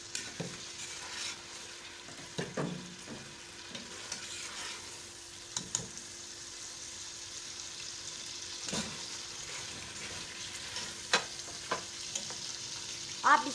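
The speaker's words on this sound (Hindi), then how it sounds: "इसको बहुत अच्छे तरीके के साथ फ्राई करूंगी।" Beef frying in a pan for jalfrezi, a steady low sizzle under repeated scraping stirs at irregular intervals, close and fairly quiet throughout with no talking.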